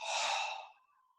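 A single soft, breathy exhale during a yoga breathing exercise, close and quiet, starting strong and fading out over about a second.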